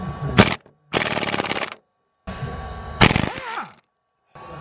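An impact wrench with a socket hammers at a stubborn crank bolt on a Mk6 Golf R, loud rattling bursts of about half a second to a second each, separated by short pauses, close up.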